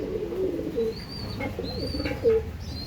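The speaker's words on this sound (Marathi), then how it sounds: "प्रॉपर आंध्राचे कबूतर आहेत" Soft, low coos from Andhra line pigeons repeat at an unhurried pace, with faint higher bird chirps scattered over a quiet background.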